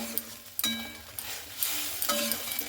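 A spiced potato and okra curry is stirred in a pan, with a few scraping, clinking spoon strokes over a soft sizzle across a short, close-up stretch.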